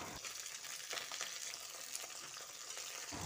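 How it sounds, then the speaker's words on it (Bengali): Marinated small fish hit hot oil seasoned with tempering and chilies, a dense, even frying hiss that carries steadily from start to finish at close range. "সেই পর্যায়ে ম্যারিনেট করা মাছগুলো দিয়ে দেব।"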